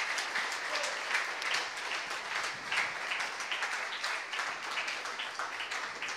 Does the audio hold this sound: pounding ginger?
no